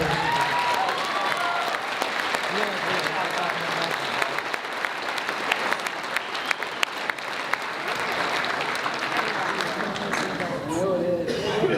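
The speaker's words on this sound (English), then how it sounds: "I think they deserve one more round of applause." Loud, sustained applause with whoops and cheering voices from a crowd at a company Christmas party, clapping continuously for about twelve seconds.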